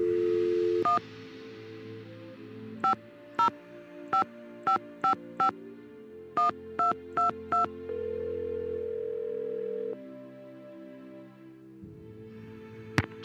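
Phone keypad dialing in the Nancy Drew game Secret of the Scarlet Hand: a tone, then two quick bursts of touch-tone beeps in an even rhythm, followed by a steady held tone, clear and alone without talk.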